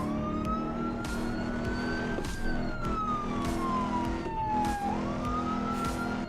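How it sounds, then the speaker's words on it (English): A police car siren wails in slow rising and falling sweeps from inside a moving car, steady and prominent over a low engine and road rumble, with no voices. "The siren is too loud"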